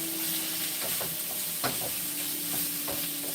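Steady sizzling hiss of vegetables stir-frying in a pan, with occasional scraping clicks from stirring.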